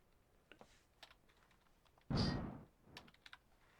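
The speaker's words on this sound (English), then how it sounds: "hit 1 on the keyboard" A few scattered computer keyboard taps sound close and quiet, with one louder, longer thunk in the middle and a quick cluster of light key clicks afterward.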